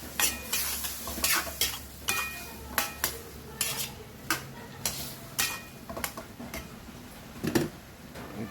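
Pinakbet vegetables being stirred in a pan, with a steady series of sharp spatula clacks and scrapes about once a second, close and clear over a light sizzle, no talking.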